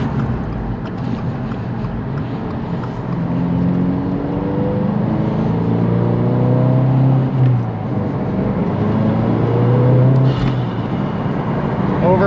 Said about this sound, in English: that intake is very whooshy